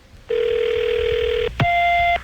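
A telephone line rings with a long steady electronic tone, then after a brief click an answering machine's shorter higher tone follows, clear and close with no talking.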